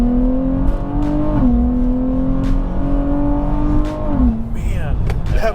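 A tuned 2024 Nissan Z Nismo on stock turbos pulls hard through third gear, its engine note climbing steadily and loudly with a brief dip at each shift-like break, heard from inside the car with cabin rumble throughout.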